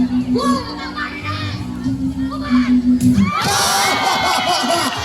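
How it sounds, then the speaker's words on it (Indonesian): Villagers in a school stage drama about the Dutch attack on Bali scream hysterically, a loud crowd of young voices shouting and shrieking together, swelling into a sustained roar of cheering-like cries near the end. "rakyat Bali ketakutan dan berteriak histeris"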